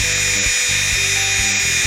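A small electric motor whines at high speed, its pitch stepping up and down a few times, close and continuous.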